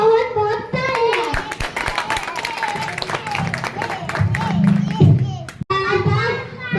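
Audience applause for Mr. Singh at a children's skit prize presentation: steady hand clapping from a crowd, fairly close and lively, mixed with kids' voices and chatter throughout.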